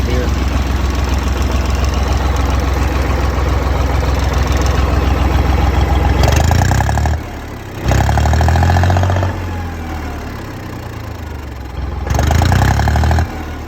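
An idling engine rumbles close and steady at the tailpipe, loud low exhaust drone throughout, with a few breathy gusts and brief shifts near the end.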